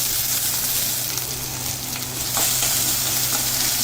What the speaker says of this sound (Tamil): ஒரு 2 நிமிஷம் வெங்காயம் வதங்க